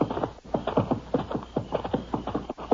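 Horse hooves clip-clop in a steady, close rhythm of repeated strikes, loud and alone with no talk over them, set in an old-time Texas Rangers radio drama.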